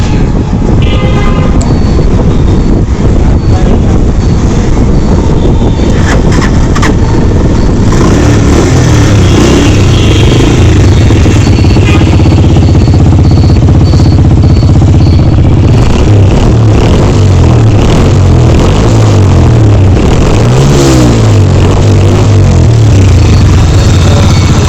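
A Sky Way 125cc motorcycle converted into a cafe racer runs loud and close, its engine note rising and falling through repeated revs over a constant roar.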